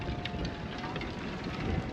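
Strong, cold wind blows at the mouth of a river in December as a steady, loud broadband rush with gusty buffeting, with no voices over it.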